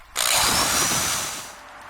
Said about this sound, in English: Then all I have to do is drill my hole and set my screws.